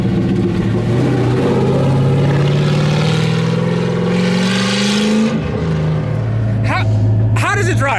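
A Chevy Camaro Z28 1LE race car with old, hard tires drives with a loud, sustained engine note that rises steadily, then drops and settles, while people talk over it near the end.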